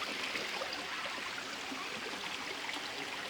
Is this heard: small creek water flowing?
yes